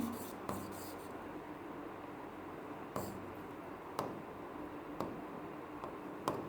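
Marker or chalk writing an equation on a board during a Class 10 maths lesson on polynomials, heard as a steady scratchy rub with a few sharp taps as strokes begin, with a voice faintly in the background.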